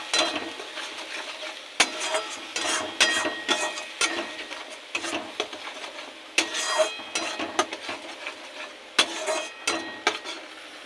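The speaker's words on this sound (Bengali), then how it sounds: "বাটা মশলাটা দিয়ে দেবো দেবো পরিমাণ মতো লবণ পরিমাণ মতো হলুদ মশলাটাকে একটু কষে নেব" Ground spice paste with salt and turmeric stir-fried in a pan for a steamed egg dish, with steady close sizzling broken by frequent sharp scrapes and clinks of a spatula against the metal pan, and no speech.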